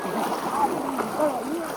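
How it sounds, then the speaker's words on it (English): Bicycles splash through a river during a ford on a bike trip across Africa, with continuous sloshing and churning water close by and small splashes rising and falling throughout. "We forded a river."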